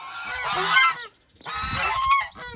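Geese honking nearby in a farmyard poultry pen, two loud, harsh bursts of overlapping honks separated by a brief pause.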